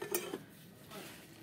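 A cooking pot with a glass lid being handled, giving a short metallic clink and clatter close up at the start, followed by quiet room sound.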